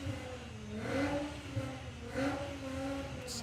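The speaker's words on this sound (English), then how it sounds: "Sounds like a VR6." A VR6-engined car accelerates down a drag strip at a festival, its engine note rising and falling in two strong revving surges, heard from a distance.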